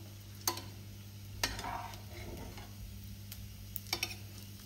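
Red amaranth leaf kebabs frying in a pan, a steady low sizzle with a few sharp clicks and utensil taps, moderately quiet and close with no talking.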